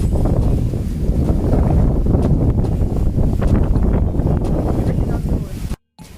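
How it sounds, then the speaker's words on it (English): Strong ocean-side wind in Ocho Rios, Jamaica buffets the microphone with a heavy, rumbling roar and gusts, loud and close, cutting out briefly near the end. "It's so windy, guys."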